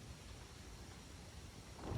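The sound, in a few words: pouring rain and wind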